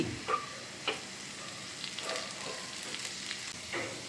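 Curry leaves hit a sizzling tempering of onions, green chillies and ginger, giving a continuous close fry with a few brief popping bursts and light stirring scrapes throughout.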